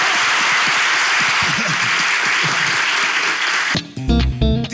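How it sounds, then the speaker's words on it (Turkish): Studio audience applause on a Turkish talk show, a loud, dense wash of clapping for several seconds that breaks off abruptly into music at the end. "Kocaman alkış hocamıza, bravo!"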